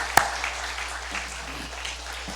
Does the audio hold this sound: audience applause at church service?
yes